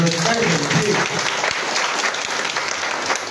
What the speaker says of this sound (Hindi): एक बार जोरदार ताली दादाजी।